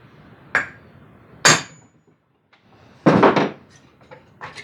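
On a Husqvarna 350 chainsaw, a hammer strikes a brass drift set against the end of the crankshaft to pop the flywheel off, giving a few sharp, separate metallic knocks with pauses between them.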